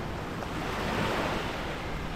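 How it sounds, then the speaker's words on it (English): Ocean surf rolling onto Malindi Beach at sunrise, a continuous broad wash of breaking waves with wind buffeting the microphone, steady and fairly loud. "This is how the ocean looks like."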